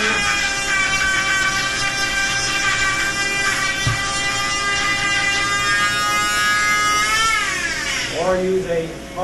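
A power carving tool stoning a wooden decoy with a Vac-U-Shield dust unit running gives a steady high whine and whirring that shifts pitch near the end, with someone talking throughout.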